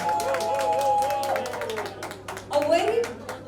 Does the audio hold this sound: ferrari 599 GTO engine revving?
no